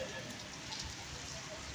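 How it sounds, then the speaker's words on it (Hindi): Light rain falling steadily in Lahore during stormy weather, a soft continuous hiss of drops close by with no other clear sounds. "अभी बारिश हल्की हल्की लगी हुई है मेरे दोस्तों"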